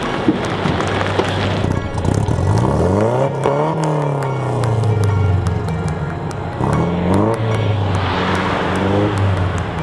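An old Datsun engine catches after a push start and revs up and down several times, loud and close, with rising and falling pitch sweeps and a rough idle between blips, no speech.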